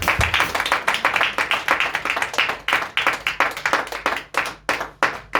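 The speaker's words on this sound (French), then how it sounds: "Acclamons Jésus pour la vie de cet enfant." A church congregation applauding together, dense rhythmic clapping that continues throughout, loud and close.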